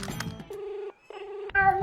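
A mobile phone rings with a steady electronic tone in two bursts separated by a short gap, fairly loud and close, with voices and room noise around it.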